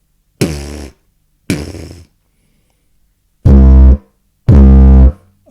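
A didgeridoo sounds four short, separate blasts, each attacked with a T tongue articulation. The first two are lighter and the last two are louder and fuller, with clear gaps of silence between them.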